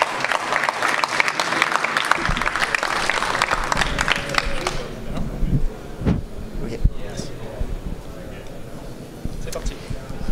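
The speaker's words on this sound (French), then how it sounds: "On peut les applaudir." Audience applause greets a student team at the SEANERGY 2019 event in Dunkerque, a dense burst of clapping for the first few seconds that thins out and gives way to room noise and scattered sounds.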